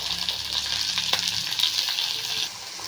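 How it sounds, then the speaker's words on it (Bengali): Beans, carrots and potatoes frying in white oil, a bright, even sizzle with light stirring, close by, easing to a quieter hiss near the end. "এই সাদা তেলের মধ্যে আমি ভেজে দেবো হচ্ছে বিনস, গাজর আর আলু।"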